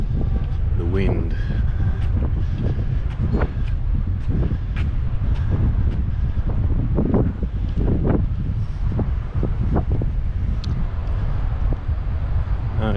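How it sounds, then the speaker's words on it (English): Strong gusting wind buffets the microphone outdoors near Marvel Stadium in Melbourne, a constant low roar broken by sharp thumps and crackles across the whole stretch, with some voices faintly underneath. "The wind."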